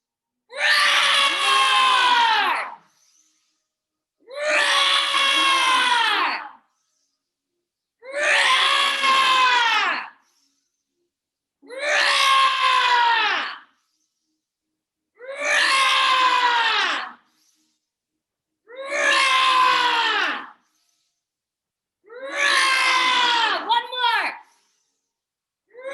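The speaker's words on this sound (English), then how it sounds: "We all want to scream sometimes." A yoga group roars and screams together as an exercise, seven long full-throated shouts in a regular rhythm, each lasting about two seconds and separated by short silences.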